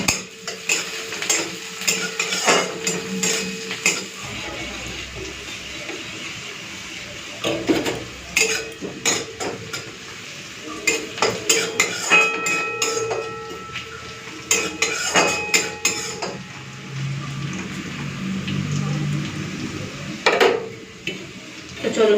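Onions and green chilies fry with panch phoron in a pan for Bengali-style masoor dal, with a spatula clinking and scraping against the metal in irregular bursts over a soft sizzle.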